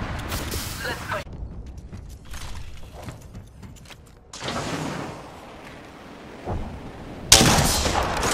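Gunfire erupts in the Apex Legends video game in short bursts that alternate with quieter gaps, ending in a loud burst of shots. Players talk over the fighting.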